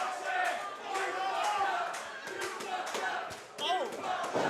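A wrestling crowd at an Absolute Intense Wrestling 8 vs. 8 cibernetico match, roaring and shouting loudly, with a few thuds from the ring and commentators talking over the noise.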